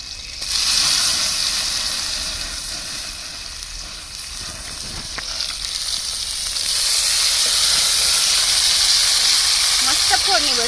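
Chopped onion dropped into hot oil in a pan for a traditional fish dish, a loud, continuous hissing sizzle that swells and stays strong, with faint voices in the background.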